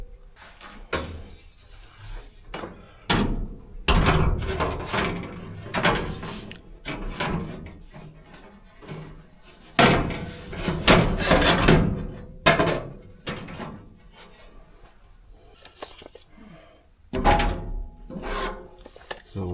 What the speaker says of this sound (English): It's only metal. We're just gonna cut it.